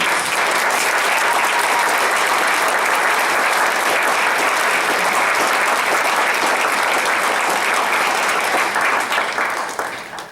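A memorial service crowd gives sustained, dense applause for three helpers, loud and steady throughout before tapering at the very end.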